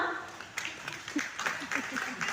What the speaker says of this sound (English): And now clap for your papa mama.